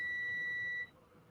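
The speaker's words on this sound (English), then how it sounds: "but I'd rather have it beeping so I know which one's live, which one ain't." An electrical test meter checking a model track for power gives one steady, close, high-pitched beep lasting under a second, then cuts off to quiet.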